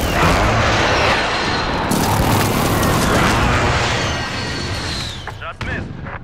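Airstrike killstreak in Call of Duty: Modern Warfare, a loud, continuous rumble of heavy explosions and booms that rolls on for several seconds before tapering off, with a radio voice over the barrage.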